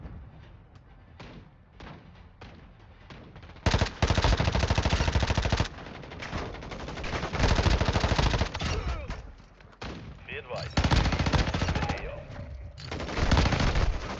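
Loud, close automatic gunfire from Warzone Mobile rattles in long bursts separated by brief lulls, with sharper single shots and thuds mixed in.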